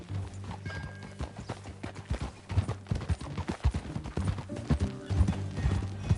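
Horse hooves clip-clopping at a steady riding pace in the video game Red Dead Redemption 2, close and prominent, with a low rumble underneath and faint background noises; no speech.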